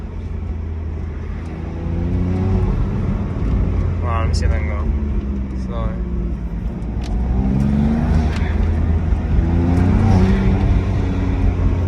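Car engine fitted with new front mount intakes, idling and revving with a loud low rumble and rising intake whoosh over about twelve seconds, while someone talks over it close to the microphone.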